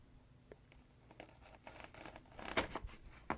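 Scissors snipping through the cardboard tabs on a Google Pixel 8 Pro retail box, a few quiet crinkly cuts and rustles building to sharper snips near the end.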